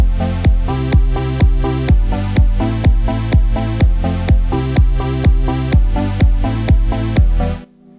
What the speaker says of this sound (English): I've used some compression on a kick